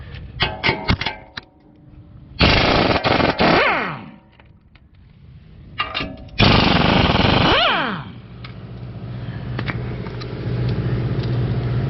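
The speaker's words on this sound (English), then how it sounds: "now we will go after the lower strut bolts. They're 18 mil." Lower 18 mm strut bolts on a 2020 Ford F-150 coming out with a power impact tool during a leveling kit install: two loud, harsh bursts of rattling hammering, each a couple of seconds long, with clanks and a low idling hum between.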